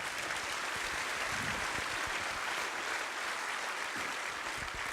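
Audience applause at a business association's general assembly, a dense, even wash of clapping heard from a distance at low level throughout.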